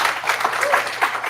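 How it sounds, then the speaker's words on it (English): Applause from a hackathon audience after a team's live demo, a short steady burst of clapping mixed with crowd noise and some voices. "Everyone, round of applause."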